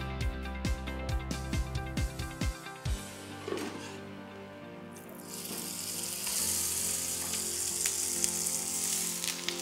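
Bean and chestnut patties fry in a pan, first with a series of knocks and clatters, then a broad, steady sizzle that swells and continues close by.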